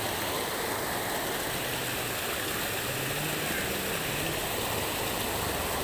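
Dark floodwater in a river swollen by heavy rain, a loud continuous broadband rush that drowns everything, with no pauses and no audible talk.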